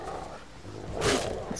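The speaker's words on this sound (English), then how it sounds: "It's gonna make me kill the dog." A dog in The Witcher 3: Wild Hunt lets out one short, fairly loud growling bark over a muffled game background.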